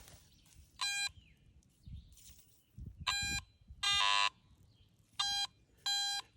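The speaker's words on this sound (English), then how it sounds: "Run the detector over it." A metal detector swept over freshly dug soil gives five loud, evenly pitched electronic beeps in bursts of about half a second. Soft rustling and scraping fill the gaps between them.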